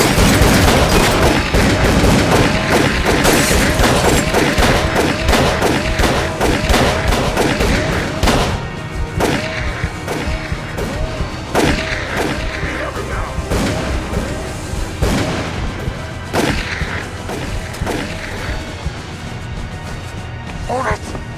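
Repeated gunshots and crashing impacts in the horror video game Call of Cthulhu: Dark Corners of the Earth, loud volleys of fire dense at first then sparser, with shouting voices among them.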